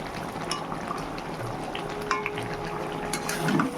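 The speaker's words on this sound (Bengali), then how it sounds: "আর এখানে হচ্ছে পমফ্রেট মাছ ভাজা" Pomfret fish frying in a pan, a continuous moderate sizzle and bubbling with scattered clinks of a utensil against the pan, steady throughout with no voices.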